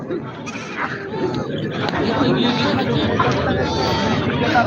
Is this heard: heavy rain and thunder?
no